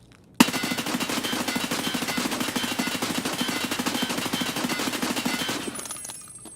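Sustained full-auto fire from an M4A1 rifle into a wall in Escape From Tarkov: a rapid, steady stream of loud, sharp shots lasting about five seconds, then cutting off abruptly, with no talking.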